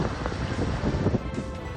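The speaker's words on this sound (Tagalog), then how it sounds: "nakaharap sa malakas na hangin ng karagatan" Strong ocean wind buffets the microphone on Ligas Island, a steady broadband roar with low gusty rumble throughout, loud and continuous with no voices.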